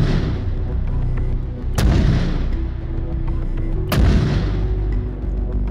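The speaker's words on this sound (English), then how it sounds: "fire however many rounds and what type of rounds they desire" Two heavy mortar rounds are fired in the military game Arma 3, each a loud booming report about two seconds apart, over a constant low rumble.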